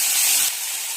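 A loud, sharp sizzle hisses as ginger-garlic paste hits a hot pan of oil, then settles into a steadier, slightly quieter frying hiss.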